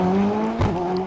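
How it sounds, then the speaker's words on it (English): A rally car with a straight-cut gearbox pulls hard up a hillclimb course straight, its engine note droning steadily with a brief surge midway, loud and close with no talk. "You can hear that straight cut box pulling in."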